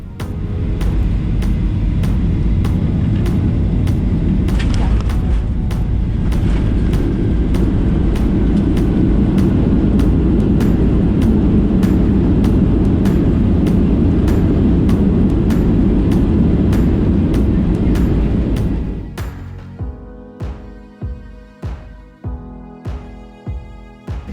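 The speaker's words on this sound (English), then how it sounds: "We started our descent into the tiny city of Wrangell with another bumpy approach and hard landing." A Boeing 737 makes a hard landing at Wrangell, Alaska, after a bumpy approach: a loud, steady cabin roar holds for most of the clip, then drops away into a repeating rhythmic knocking as the jet slows.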